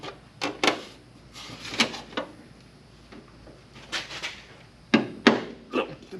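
An exhaust heat shield slides onto mounting studs on a Firebird, giving scattered metallic knocks and scrapes, close by, with quiet gaps between the clatters.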